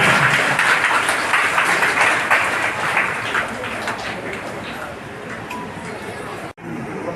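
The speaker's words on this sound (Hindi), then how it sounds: "तालियां होनी चाहिए, जोरदार तालियां बजानी चाहिए" Crowd applause at a tree planting event, sustained clapping from many people with a voice over it, gradually easing before a brief cut near the end.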